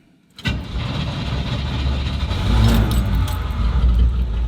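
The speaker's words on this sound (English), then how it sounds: "So it's starting, but if I don't keep the RPMs up, the car is stalling" A car engine with a failing idle is cranked and catches after a short silence, then runs rough and loud with low rumble and uneven revs, the kind of off-grid vehicle that stalls unless the RPMs are held up.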